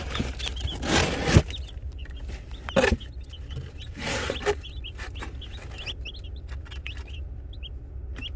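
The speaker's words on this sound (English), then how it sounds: "These are Bantam Brahmas." Bantam Brahma chickens on a small pond farm give soft clucks and short chirps, with rustling and handling noises nearby and a few louder bursts of movement.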